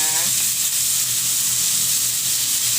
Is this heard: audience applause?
no